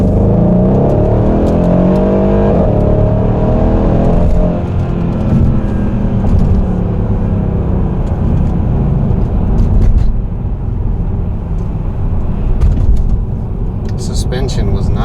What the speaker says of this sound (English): let's go for a ride in a 2014 E63S